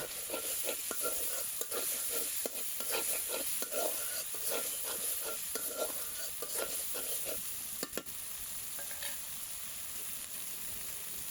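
Masala spice paste for a shing fish curry fries and sizzles in a pan with repeated scraping stirs at a regular rhythm, close and fairly loud, then settles into a steady sizzle.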